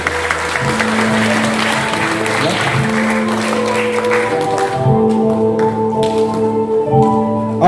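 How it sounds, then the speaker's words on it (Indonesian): Audience of cadets applauding during an ESQ leadership training session, a loud burst of clapping that thins out as tonal music notes sound underneath and carry on after the clapping fades. "tepuk tangan dulu ya semuanya."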